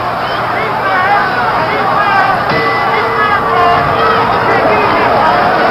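Boxing crowd at the 1976 Foreman versus Lyle heavyweight fight, a steady dense roar of cheering and babble filling the whole stretch under and around ringside commentary.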